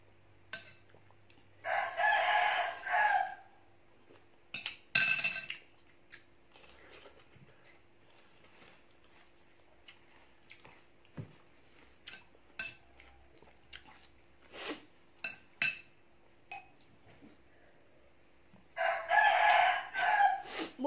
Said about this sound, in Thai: บ่มีคลิปใดที่จะบ่ได้ยินเสียงไก่จ้ะ